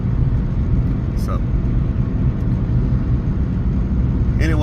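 A 2001 Dodge Neon engine runs at a steady idle, giving a continuous low hum and rumble with a voice talking over it.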